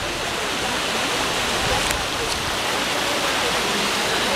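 Loud, steady roar of rushing river water at a cliff-jumping spot used for rafting in Rishikesh, a dense continuous wash filling the whole clip with no pauses.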